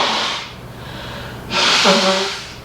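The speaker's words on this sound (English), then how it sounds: "I have to blow my nose." A person forcefully blows their nose in two bursts, a short blast at the start and a longer, louder honking blow with a nasal tone after a brief pause, close up.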